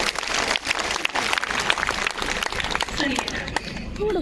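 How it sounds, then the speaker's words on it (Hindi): Audience at a kavi sammelan poetry gathering in Kawardha clapping with raised hands, a busy, moderately loud patter of applause with some voices mixed in, thinning toward the end. "एक बार पूरा सदन दोनों हाथ ऊपर उठाकर मुझे तालियां बजाकर अनुमति दीजिए"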